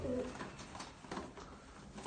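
A pigeon coos softly at a pigeon loft, a low, faint, steady murmur over about two seconds with no talking.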